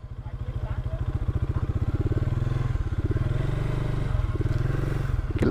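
A small Lifan KP150 mini motorcycle idles with a steady low putter, throttle rising and falling slightly as the bike is wheeled and parked nearby, with some clatter and scraping throughout.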